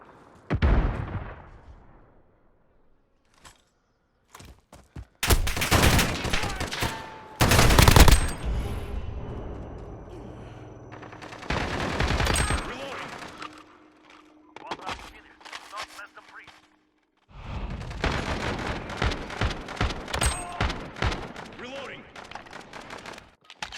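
Video game gunfire from Call of Duty: Modern Warfare (2019), with loud rapid automatic bursts and single shots in clusters separated by quieter gaps, plus echoing impacts and distant rumble.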